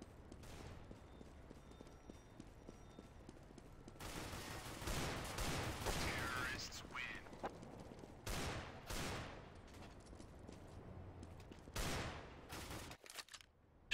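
Bursts of gunfire from Counter-Strike: Global Offensive, with dense loud volleys in the middle and sharp isolated shots toward the end, over a low steady game background.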